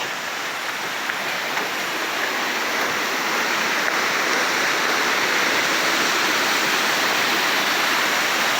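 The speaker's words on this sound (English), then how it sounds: "Lots of waterfalls in the Smokies." A waterfall roars in a constant, loud, broadband rush of falling water with no pauses.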